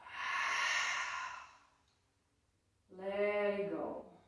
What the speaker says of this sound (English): Take a nice deep breath in through the nose. And an open mouth exhale.